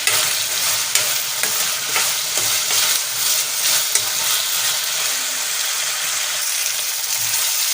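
Spinach sautéed in a pan for palak paneer sizzles steadily, with light stirring scrapes and small crackles throughout, close and even, and no voices.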